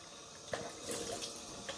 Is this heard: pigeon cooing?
no